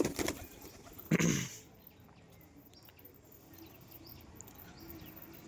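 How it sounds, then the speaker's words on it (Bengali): Pigeons move around a house, with a burst of wing flapping near the start followed by faint, soft cooing and light shuffling at a moderate distance. "আর এই যে সব কটা পায়রায় বাড়িতে ঘোরাফেরা করছে ওরা করুক"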